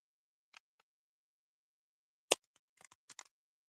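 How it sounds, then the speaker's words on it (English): Tarot cards being shuffled by hand, a few faint separate riffling clicks and flicks, sparse and close in an otherwise quiet room. "Did I even shuffle these? Let me shuffle them."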